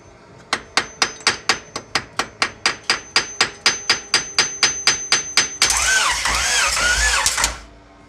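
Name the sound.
Honda H22 engine turning over with compression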